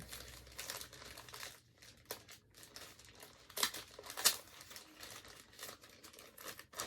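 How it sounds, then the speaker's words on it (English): Painter's tape being torn and pressed down to close a package for shipping a slabbed comic, a quiet series of crinkling, ripping bursts with brief pauses between. "I grab some painter's tape, just to tape that closed."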